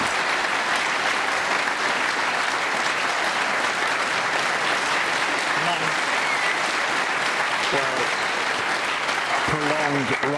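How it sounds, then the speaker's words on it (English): Snooker World Championship crowd giving a prolonged round of applause for a shot, loud sustained clapping from the arena audience throughout, with a voice briefly speaking near the end. "Prolonged round of applause for a terrific shot there with the white tucked up on the cushion"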